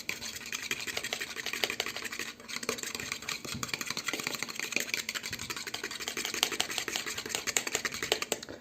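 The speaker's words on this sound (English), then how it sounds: "He also adds a teaspoon of sugar. Let's whisk this together." Mayonnaise ingredients, sugar among them, are whisked together in a bowl, giving a steady rapid clicking and scraping that continues without pause at close range, with no talking.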